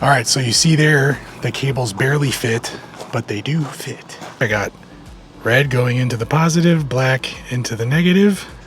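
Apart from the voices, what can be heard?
No distinct noise like a dog, phone or traffic.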